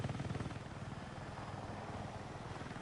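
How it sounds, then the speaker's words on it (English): An aircraft drones overhead in the video game Battlefield 6, a faint, steady rotor-like engine rumble with a pulsing beat, heard alone throughout. "So this plane's going to be annoying."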